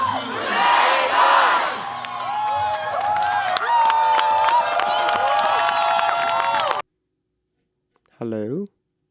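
A crowd cheering and shouting in a steady loud roar, heard faintly through a livestream speaker, then it cuts off and a lone voice speaks briefly.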